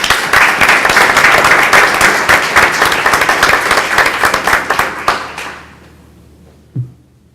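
Audience applause at a school board meeting honoring commended students, dense steady clapping that fades out after about five seconds, followed by a single soft thump near the end.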